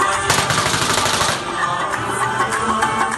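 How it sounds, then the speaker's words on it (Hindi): Gunfire breaks out during an attack on a political protest march in Pakistan, with loud dense bursts of shots over a chaotic crowd din that keeps going for the whole stretch. "कप्तान का कंटेनर अभी कुछ ही फासले पर पहुंचा कि अचानक गोलियां चल गईं।"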